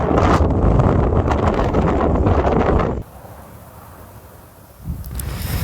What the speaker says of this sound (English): the wind is just terrible